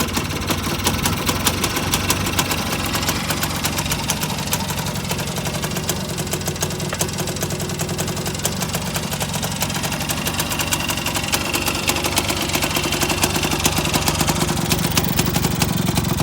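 A Puch SG250 motorcycle engine idles steadily and loudly up close, a continuous low rumble with a fast ticking rhythm throughout.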